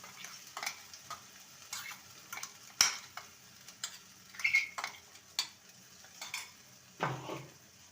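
A spoon stirs green pea paste with salt, turmeric and white sesame in a hot pan, making soft scrapes and taps against the metal with a gentle sizzle, close and intermittent, with no talking.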